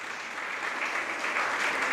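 An audience claps at a Jain religious discourse: steady, dense applause from many hands, holding level and swelling slightly toward the end, with no voice over it.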